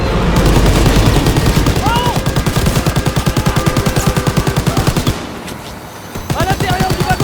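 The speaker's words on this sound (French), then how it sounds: "Continue à tirer!" Sustained, rapid machine-gun bursts and rifle fire in the Call of Duty WWII campaign, loud and dense for about five seconds, then a brief lull before firing resumes, with shouted voices mixed in.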